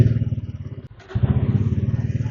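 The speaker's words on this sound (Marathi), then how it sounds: "तर मित्रांनो आता बाईक ऑन करूया" A Bajaj N160 motorcycle engine runs steadily at a close, even idle, with a rhythmic low thrum and a short dip partway through, alone without talk.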